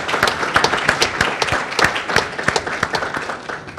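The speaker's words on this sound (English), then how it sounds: "Can we give David Honig a round of applause?" Conference audience applauding a speaker during the morning session of an access-to-capital conference, a loud, dense burst of many hands clapping close by and continuing for several seconds.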